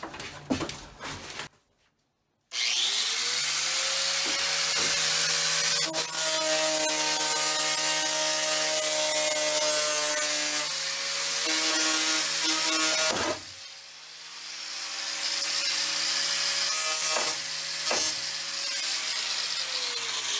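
Saw blade cutting a window opening in the metal side of a Sprinter van, a loud continuous harsh buzzing whine running steadily for long stretches, briefly dipping mid-cut, after a few short bursts at the start.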